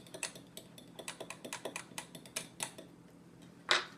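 Egg yolk and a tablespoon of whipping cream being mixed in a bowl for a pie glaze, a utensil clicking and tapping against the dish in quick irregular strokes, close and fairly quiet, with a sharper clink near the end.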